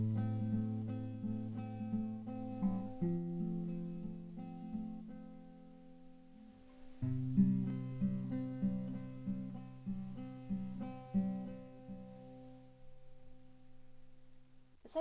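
Fingerpicked acoustic guitar plays the chords of a song, a steady rolling pattern of plucked notes with a chord change midway, close and clear with no voices.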